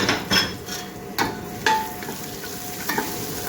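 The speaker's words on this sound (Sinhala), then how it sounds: "ලුණු ටික දැන් රන්වන් පාට වෙන්න බැඳිලා ඒකට එකතු කරනවා මේ ඉඟුරු සුදු ලුණු පේස්ට් එක" Onions frying in a pan with ginger garlic paste being added for chicken biryani, a soft steady sizzle broken by intermittent scrapes and clinks of a spoon stirring against the pot.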